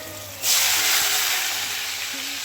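Onions dropped into hot oil burst into a loud, sustained sizzle that starts abruptly and holds steady, with faint clinks in the background.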